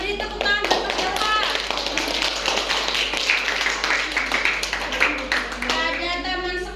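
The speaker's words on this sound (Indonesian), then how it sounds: "beri tepuk tangan buat Mas Dafa" Children in a classroom clapping for a classmate, rapid irregular claps close by, mixed with kids' voices and chatter throughout.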